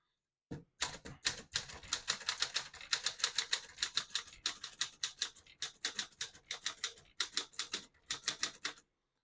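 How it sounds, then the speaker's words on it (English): Rapid, crisp clacks of typewriter keys on a 1948 Smith-Corona Sterling portable typewriter strike in quick bursts, close and clear, with brief pauses between runs of typing. "Beautiful typing machine."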